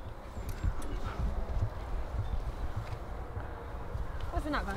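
A stallion walked by hand on a farm, its hooves clip-clopping softly and unevenly on the ground amid outdoor background noise, with faint voices nearby.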